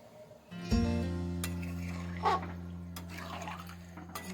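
Boiled pork stock poured into a pot of browned, cooked-down pork, with a loud splashing pour followed by steady liquid sound and occasional stirring scrapes, close and without speech.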